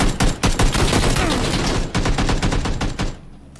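Rapid bursts of gunfire in the online shooter PUBG, played on Xbox One S, with loud repeated shots and automatic fire rattling almost continuously, some volleys close and heavy.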